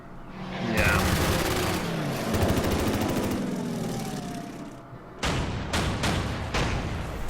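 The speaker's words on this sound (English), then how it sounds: "Battleship fires at a destroyer." A battleship fires on a destroyer in the Order of Battle naval game: a rolling barrage of heavy gunfire, then a few sharp, loud shots near the end, with a voice talking underneath.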